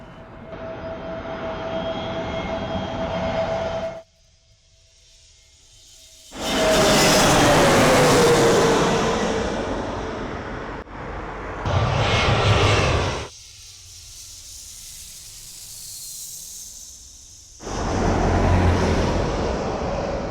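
Loud jet engine roar as airliners pass overhead near Heathrow Airport, swelling and fading in several long sweeps with quieter gaps between.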